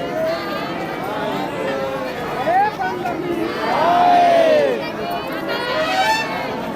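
Large crowd at the Damakheda temple fair in India, a dense steady babble of many voices and shouts close around, swelling louder midway.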